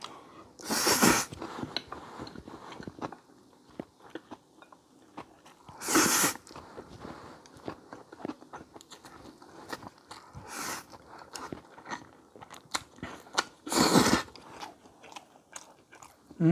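Close-up eating of Ottogi Jjaslang jjajang instant noodles with a fried egg, soft wet chewing and slurping with a few louder bursts, no talking.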